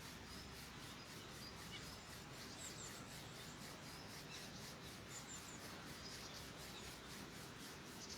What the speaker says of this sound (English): Slowly rub your both palms together.